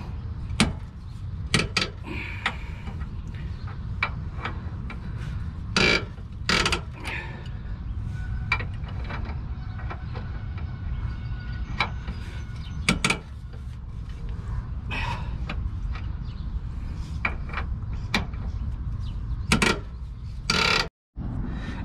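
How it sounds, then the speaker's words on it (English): A hand ratchet loosens the bolt on a rear shock absorber of a Nissan Pathfinder, producing close, quiet clicking and creaking in irregular bursts over a low background hum. "So what you gotta do, you gotta open up this bolt."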